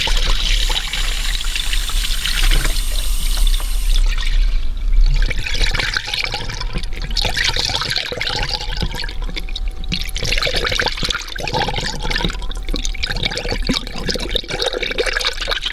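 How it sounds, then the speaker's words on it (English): Coolant flowing from the thermostat bleed valve of a Dodge Grand Caravan with a 3.6 V6 during a water pump change, a steady trickling and splashing stream, close and continuous with some gurgling changes. "we're starting to get a steady flow there now down on the valve"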